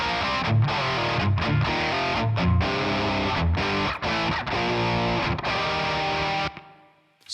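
A heavily distorted electric guitar plays chords and riffs through a ToneX pedal, with a short chamber reverb tail lingering as it stops.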